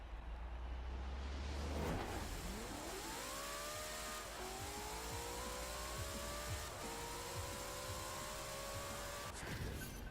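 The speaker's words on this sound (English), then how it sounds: "Please guys, jump in this Mustang if you've got it, and if you're a good drag person, put your best drag tune on it" Ford Mustang in Forza Horizon 4 on a drag race launch, engine revving hard then pulling through several rising gear sweeps with brief drops at each shift, loud and steady throughout, no talk.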